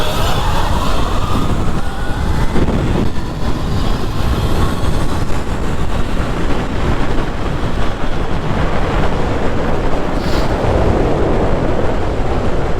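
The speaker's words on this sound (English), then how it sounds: "We're going to have a drag race." Two 72-volt and 60-volt Sur-Ron and Talaria electric dirt bikes drag racing at full power: a loud, close, continuous roar of motor whine and rushing wind, with a rising whine at the start.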